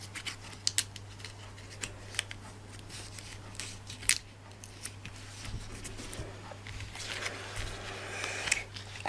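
Scissors snipping paper while shaping a paper flower, a run of sharp, fairly close clicks spaced irregularly over a steady low electrical hum, with rustling paper toward the end.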